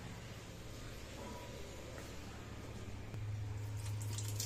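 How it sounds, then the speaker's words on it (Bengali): Hands rinsed under a running kitchen water tap, a soft continuous splash and trickle that grows fuller and louder partway through, with no talking. "হাতটা ধুয়ে নি।"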